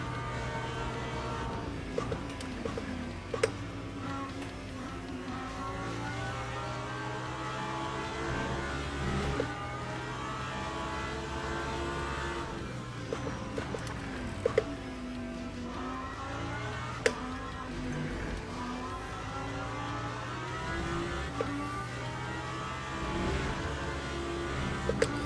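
Porsche race car engine in Le Mans Ultimate, a steady droning engine note rising and falling through gear changes and corners, with occasional sharp clicks over the continuous hum.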